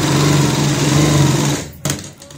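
A sewing machine stitches a girl's sleeveless frock in a fast, steady mechanical whir that runs loud and close for about a second and a half, then stops abruptly, followed by a short clack.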